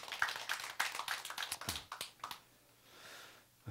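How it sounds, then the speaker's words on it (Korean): A church congregation at a Sunday service in Korea bursts into applause, a dense run of claps and taps for about two and a half seconds that then fades to a quiet room hush. "우리 박수 한번 해주시기 바랍니다"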